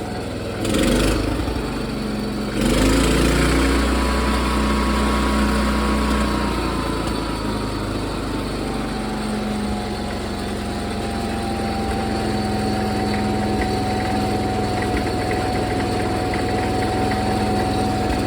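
A John Deere 210 lawn tractor engine idles fast and steady with a throttle that seems stuck, a constant close buzzing drone with a brief louder burst near the start before settling into an even hum.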